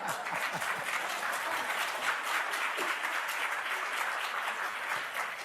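An audience claps at a town hall meeting on COVID-19, a steady, moderately distant patter of many hands sustained throughout with no voices over it.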